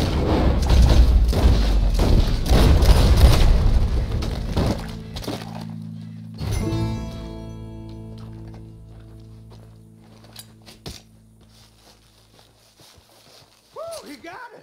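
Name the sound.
gunshot in video game Red Dead Redemption 2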